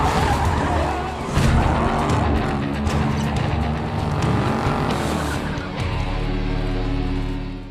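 Race cars roar loudly around a track as tires squeal and skid through a sustained chase, engines revving near and hard with brief surges, no talk.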